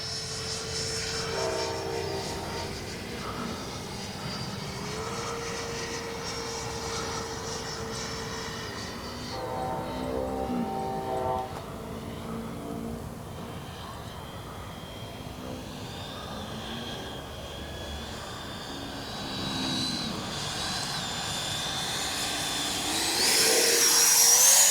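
A Freewing 90mm Eurofighter Typhoon RC jet on its maiden flight makes a gear-down pass, its ducted-fan whine sweeping in pitch as it flies by, growing louder and closer toward the end.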